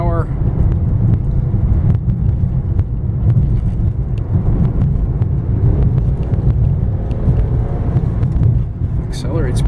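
2006 BMW 325i sedan accelerating along a road, heard from inside as a constant low engine and tyre roar with light wind noise, while someone talks over it.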